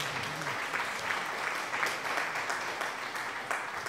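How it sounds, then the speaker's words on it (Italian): A crowd applauding during a Farming Simulator 22 livestream, steady dense clapping that holds evenly throughout, moderately loud with no voices on top. "facciamo un grande applauso"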